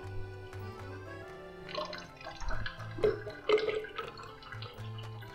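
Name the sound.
draining water from soaked cashews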